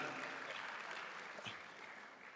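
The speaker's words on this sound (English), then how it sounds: "Round of applause for them, ladies and gentlemen." Audience applause at a fintech summit in Accra, a steady wash of clapping from a crowd that holds for a couple of seconds and tapers slightly, fairly faint and distant.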